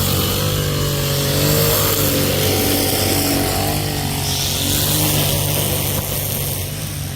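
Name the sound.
string trimmer (whipper snipper) cutting grass at landscaping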